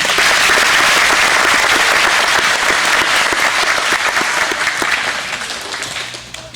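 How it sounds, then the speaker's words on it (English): Applause from an audience at a school awards day, a loud, dense and continuous clapping close by that holds steady for several seconds before tapering off at the end. "Let's give this group a hand."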